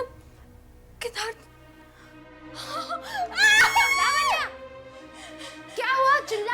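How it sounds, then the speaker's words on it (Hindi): A woman screams in a Hindi horror TV drama, letting out shrill, wavering cries with a short pause between them, preceded by a few quieter vocal sounds. "चिल्ला क्यों रही हो?"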